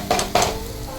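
Chopped carrots and beans tipped into a pan, two quick clattering drops with a short rustle, followed by a soft sizzle.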